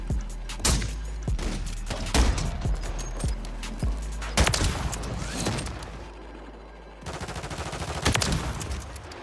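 A sniper rifle fires in a video game, several sharp loud shots and thuds spread across a busy background of game noise.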